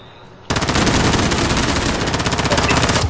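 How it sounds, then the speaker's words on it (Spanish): Sustained automatic gunfire in Call of Duty Warzone bursts in loud after a quiet half second, a dense rapid rattle of shots that continues without pause to the end. "¡Están disparando!"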